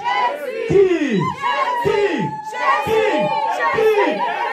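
A church congregation shouts and cheers in acclaim to Jesus, repeated loud falling vocal whoops in waves with crowd voices throughout, close and energetic.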